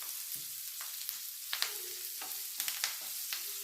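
Close, steady sizzling of dry red chillies and curry leaves tempering in hot oil, with scattered sharp crackles and pops and no one speaking.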